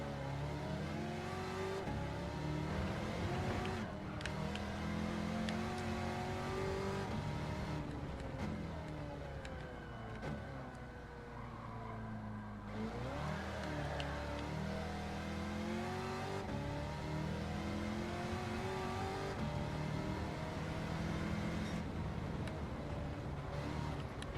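Race car engine in Gran Turismo 7 revving and shifting steadily for a long stretch, pitch rising and falling through gears under braking and turns, loud and close with no talk.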